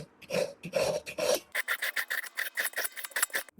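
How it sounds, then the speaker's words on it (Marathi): Wheat flour stirred and roasting in melted ghee in a pan over medium heat, a dry scraping rasp repeating in short strokes, slower and heavier at first, then quicker and lighter, close and moderately loud with no talking. "तूप वितळून घेतलाय. गॅस मीडियम केलेली आहे आणि वरून आता पीठ चाललंय. हा गव्हाचा पीठ आहे."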